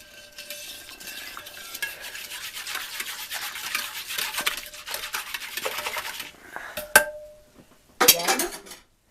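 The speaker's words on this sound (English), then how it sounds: "So we want to make sure we get it stirred and mixed really good" A utensil stirs apple jelly in a pot with a soft, continuous scraping and swishing, followed near the end by a couple of sharp clinks against the pot.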